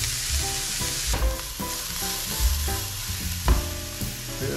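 Chopped onions and mixed vegetables sweating in a pan over low heat while cooking camping-style fried rice, a steady soft sizzle broken by a few scraping stirs, close and alone.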